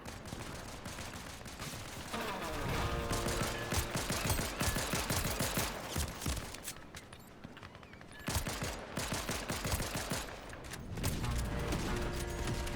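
Repeated bursts of video game gunfire from shooting a Peely character in a Fortnite prop hunt match, dense rapid volleys loud throughout with a short lull midway, with game music and effects underneath.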